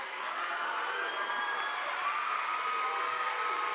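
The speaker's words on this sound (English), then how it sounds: "As both crowds come to life for the hustle" Basketball crowd at a district high school game between Franklin-Simpson and Logan County roaring steadily as both sides cheer a scramble for a loose ball, a dense, continuous wash of voices throughout.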